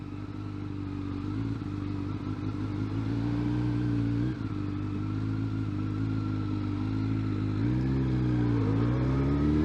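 Kawasaki Ninja ZX12R engine pulling on the freeway with no throttle input, a steady close mid-pitched drone whose tone shifts and climbs in smooth waves as the bike gains speed, with wind noise underneath.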